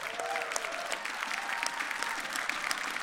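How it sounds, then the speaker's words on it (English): Steady crowd applause at a Rainbow Six Siege esports event in Montreal, dense clapping from many hands that holds an even level throughout. "Give yourselves a round of applause"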